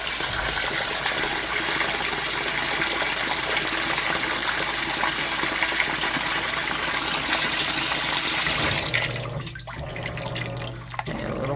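An Amana NTW4519JW2 top-load washing machine fills with water in a loud, steady gushing rush that stops abruptly near the end, leaving a low hum and faint clicks.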